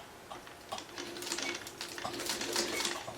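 A sewing machine stitches foundation paper piecing with a tiny stitch length, running in a quick, close, steady mechanical patter that starts after a brief pause; no voices.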